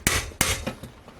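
Sharp metallic hammer blows striking a nutsert lodged in an amplifier chassis hole, two loud close impacts followed by two softer taps, with no talking.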